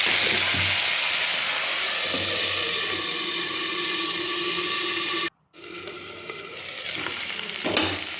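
Potatoes and bhola fish frying in a pan with a loud continuous sizzle and stirring, close by, then a brief cut and the sizzling resumes slightly quieter.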